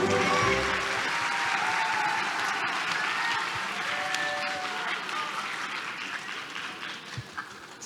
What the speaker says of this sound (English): Please welcome the Prime Minister with a big round of applause